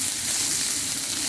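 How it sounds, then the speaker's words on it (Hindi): A teaspoon of cumin seeds frying in hot oil, giving a loud, steady, close sizzle that holds evenly with no pauses. "इसी में हम डाल देंगे 1 टीस्पून जीरा, 2 मिनट तक इसको हमने फ्राई करना है बस।"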